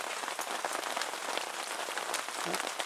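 Rain falls steadily on a woodland log pile, a soft, dense patter of drops, fairly quiet and continuous, with no voices.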